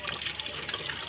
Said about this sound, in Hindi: अब पानी से धो लो